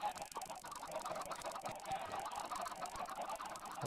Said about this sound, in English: Holy nuts, there's just so many chickens in this corner.